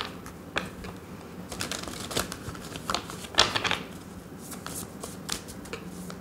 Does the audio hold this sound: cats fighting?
no